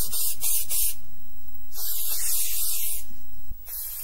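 WD-40 sprays from an aerosol can in several sharp hissing bursts, some short and some sustained for over a second, loud and close with brief pauses between.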